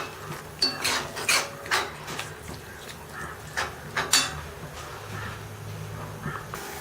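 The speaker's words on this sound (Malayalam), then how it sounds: "ഇനി അതിലേക്ക് നമുക്ക് ഇഞ്ചി വെളുത്തുള്ളി പേസ്റ്റ് ചേർക്കാം. നന്നായിട്ട് മിക്സ് ചെയ്യാം." A spoon clinks and scrapes in a pan while ginger garlic paste is mixed into tomatoes for kootu curry, a series of light metallic knocks in uneven rhythm over soft sizzling.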